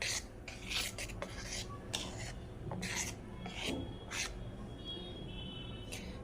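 A spoon scrapes and rasps against the inside of a pot as soaked sago is stirred. The strokes are short and repeated, close and fairly quiet, with no talking.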